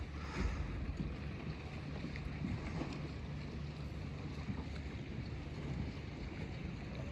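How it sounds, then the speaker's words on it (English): Hundreds of small yachts racing up a river, heard as constant wind buffeting and low rushing water noise, a steady distant wash with no distinct engines and no talking. "there's about 500 little yachts just racing up through the river"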